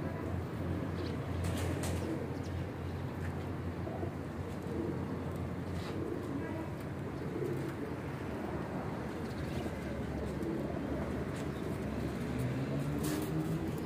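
Record-holding flying pigeons in a loft coo steadily and continuously, their low calls nearly buried in dense, constant background noise, with no one speaking.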